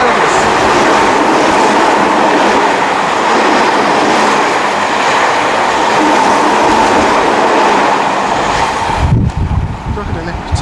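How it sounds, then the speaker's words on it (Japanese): A Seibu Ikebukuro Line rapid express train roars through Motokaji Station at speed without stopping, a loud continuous rumble and clatter of wheels that cuts off abruptly near the end. "これは快速急行でこれだけがですね元鍛冶の駅を通過していきます"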